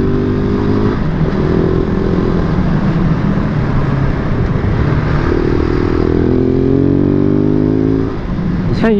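A supermoto motorcycle cruises at 90 km/h, its engine droning loud and close with shifting revs and rising tones near the end, and wind rush underneath.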